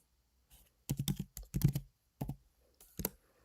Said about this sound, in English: Let me type this in for you guys.